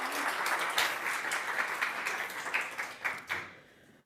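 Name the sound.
audience applause at a PyCon talk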